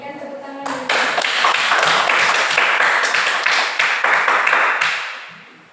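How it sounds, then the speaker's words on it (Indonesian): Classroom applause from students, a dense burst of clapping that rises quickly, holds steady for several seconds and fades out at the end, with faint talk before it starts. "Berikan tepuk tangan dulu."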